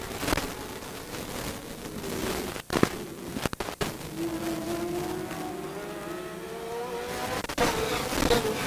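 NASCAR late model race cars race around Rockford Speedway during a 1989 ARTGO All Star 100 night 20-lap last chance race, engines droning and rising in pitch as cars pass, with sharp bursts between.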